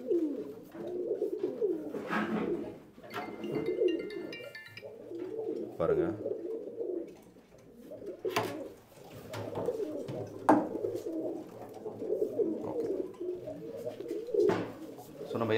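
Tournament racing pigeons coo steadily in their cage, soft throaty rolling calls that repeat and overlap throughout, with occasional wing flutters and clatter, while someone speaks briefly over them.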